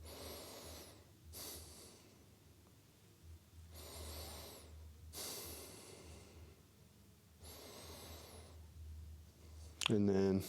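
Slow, deep breaths during a yoga stretch toward front splits, several long audible inhales and exhales spaced evenly, close to the microphone and alone with no talk.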